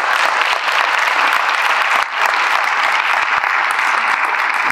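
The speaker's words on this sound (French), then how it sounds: "que je vous demande d'applaudir" Conference audience in a hall for an Armenian economics event gives loud, sustained applause, many hands clapping evenly with a brief dip midway before resuming.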